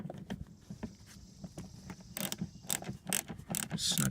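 Hand tool tightening a fastener on a Chevrolet Cruze mud guard, quiet ratcheting clicks and small metallic creaks in an irregular series, growing a little louder toward the end.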